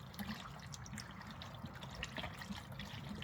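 Running water rinses cleaned chitlins (pig intestines) in a steady, trickling stream with soft splashes and drips, continuous and close, with no talk.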